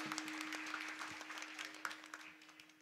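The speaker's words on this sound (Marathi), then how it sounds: "एकदा गायनाचार्य मंडळींसाठी आमच्या बालगोपाळांसाठी टाळ्या वाजवा" An audience at a Marathi kirtan gathering claps for the singers, a brief dense patter of many hands at moderate distance with a steady hum beneath it.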